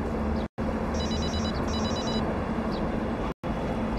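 A telephone rings in an indoor scene. A steady electronic ring repeats in short bursts and is cut by two brief dropouts, with no talking over it.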